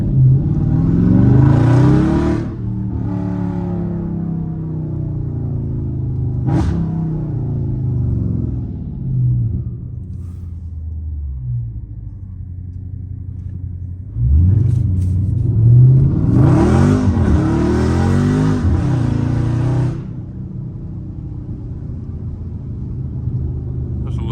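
Dodge Charger Scat Pack V8 revving hard in bursts while sliding through turns, loud close roars separated by quieter idle and cruising rumble, with no talk over it.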